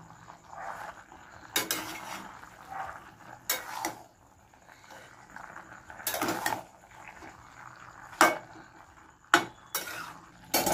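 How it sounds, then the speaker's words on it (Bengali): A spatula stirs puishak chocchori, a Malabar spinach dish, in a covered pan, giving short separate bursts of scraping and clinking metal with quiet gaps and a soft, low simmer between them. "এবার একটু নেড়ে দিই, আবার ঢেকে রাখতে হবে।"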